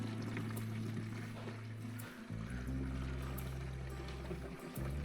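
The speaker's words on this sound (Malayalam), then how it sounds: "മിക്സ് ചെയ്തിട്ട് നമ്മളുടെ അരിപ്പ വെച്ച് ഒഴിക്കുക." Mixed fertilizer solution is poured through a sieve into a 20-litre barrel, giving a steady, soft stream of liquid with a low droning hum beneath it and no talk.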